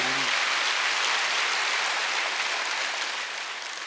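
A church congregation claps together during a Wednesday worship service, a dense, loud wash of applause that fades slightly near the end.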